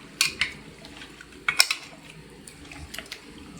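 A utensil stirs Nellore fish curry (chepala pulusu) with lemon juice in a pot, making sparse light clinks and scrapes in short clusters against a quiet kitchen background.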